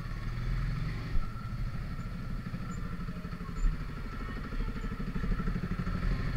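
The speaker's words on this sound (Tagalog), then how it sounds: "may nakaharap po kasing motor, so dito po talaga yung daanan" A motorcycle engine idles and putters at close range with a steady low chug on a narrow pathway. The sound is fairly faint, with a couple of small clanks.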